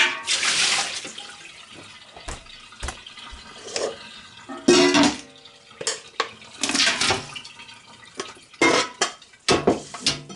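Raw sheep's milk is stirred in a metal pot while making Wensleydale cheese, with irregular sloshing splashes and clanks of utensil against the pot coming in bursts.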